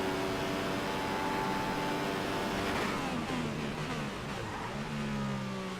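Formula 1 car engine from the F1 2015 game at the Bahrain Grand Prix, revving high then dropping through downshifts into a corner, loud and continuous without speech.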